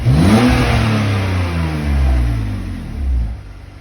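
A BMW 330i engine revs hard and loud up close, rising and falling in pitch through repeated surges and then settling back, with no talking.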